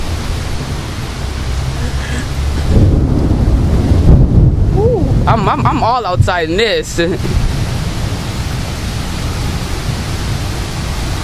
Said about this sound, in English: these winds are getting very intense right now.